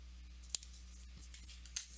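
Scissors snip through paper to trim the excess off a handmade greeting card, giving two or three sharp, quiet cuts spaced apart in an otherwise hushed room.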